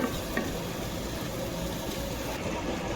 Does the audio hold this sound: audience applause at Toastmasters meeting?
no